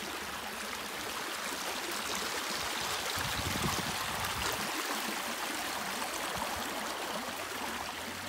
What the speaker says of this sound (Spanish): Esto es agua de las montañas, que cae desde las montañas